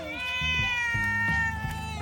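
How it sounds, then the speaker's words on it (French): A pet cat lets out one drawn-out, clear meow close by, steady and tonal for about two seconds, with faint background noise. "Dès que j'arrête, il miaule."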